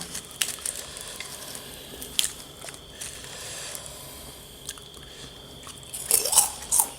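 Crunchy chewing and biting while eating Thai-Lao papaya salad with grilled shrimp, a steady run of close, crisp crunches with louder bites near the start and a cluster of sharp crunches at the end.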